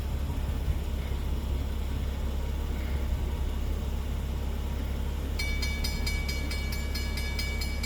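A CSX intermodal freight train passes at Canaseraga, a heavy continuous rumble of rolling cars held up close, with a rapid repeating metallic ringing joining near the end.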